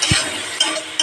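Maggi noodles with tomato stirred in a pan, giving a few light clinks of a utensil against the pan over a soft continuous sizzle.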